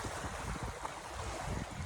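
Sea surf washes continuously along a quiet shoreline, a dense close wash of breaking water mixed with wind buffeting the microphone, with no voices.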